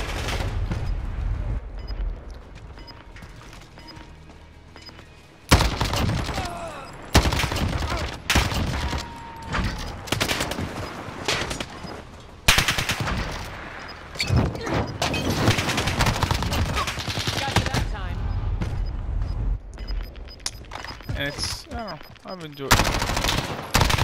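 MP5 submachine gun fire in a Warzone video game, repeated loud bursts of rapid automatic shots with pauses between them, and someone talking under and between the bursts.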